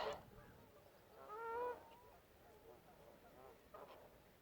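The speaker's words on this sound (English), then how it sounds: "there's some Canada geese up there as well as the the grey lag geese" Faint Canada geese and greylag geese honk in the distance near a Yorkshire reservoir, with a few scattered calls over quiet outdoor background noise.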